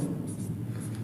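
Chalk or marker scratching steadily across a classroom board in short strokes, close and fairly loud, with a low hum of room noise underneath.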